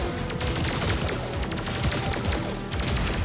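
Sustained rapid gunfire from the side-scrolling video game Terminator 2D: No Fate, a dense, loud barrage of overlapping shots and impacts with no pauses throughout.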